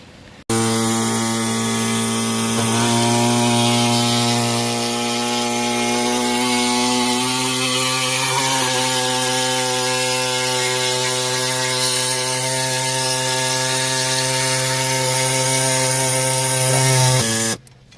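A power cutting tool runs continuously while cutting a part during a car heater core replacement, a loud, steady, high-pitched whine lasting about seventeen seconds with slight shifts in pitch, close up and without talk.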